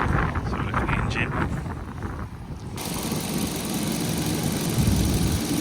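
A 1986 Jaguar Series 3 engine idles with a steady low rumble on a cold winter day, mixed with wind buffeting the microphone, and a voice talks over it.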